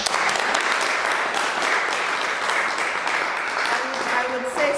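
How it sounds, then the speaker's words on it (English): Audience applause at a COVID-19 speaker series event, a dense steady wash of clapping that continues evenly throughout, with a faint voice surfacing near the end. "A round of applause."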